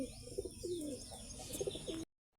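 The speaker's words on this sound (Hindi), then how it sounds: "अभी शेरा गुटक रहा है अपनी कबूतरी पर, और सुल्तान भी आ चुका है गुटकने के लिए" Pigeons coo in a loft, a male courting a hen, with repeated throaty rolling coos and soft flutters, close and clear, before the sound cuts off abruptly.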